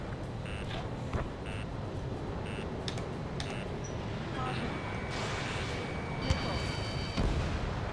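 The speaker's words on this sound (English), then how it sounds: "the artillery fire's been a number on my hearing" Artillery fire rumbles through a video game battle involving the Osean military, with a dense, continuous low barrage and repeated electronic warning beeps and tones layered over it.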